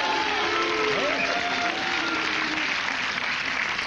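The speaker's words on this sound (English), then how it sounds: "They're chanting Lou." A studio audience on a 1990–91 late-night talk show chants a name in unison, a loud, continuous crowd roar with rhythmic vocal swells, no speech over it.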